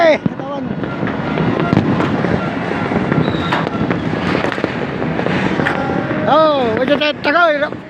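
Firecrackers and fireworks pop and crackle steadily through a New Year's midnight celebration, with whistling rockets near the end, while people talk and shout close by.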